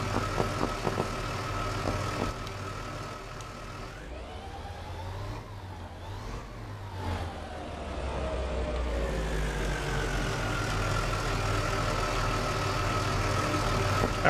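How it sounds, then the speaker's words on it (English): A fire engine truck idles in the Into the Flames firefighting game, a steady low engine drone that briefly dips and shifts pitch midway before settling back into a constant, fairly close hum, with no voices. "this is the new engine truck that's in the game, that Corey put in the game."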